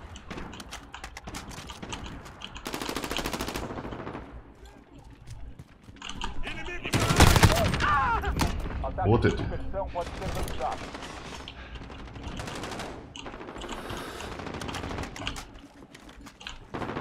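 Rapid automatic gunfire in the video game Call of Duty Modern Warfare, repeated bursts of sharp shots separated by short pauses, loud and close against busy game sounds.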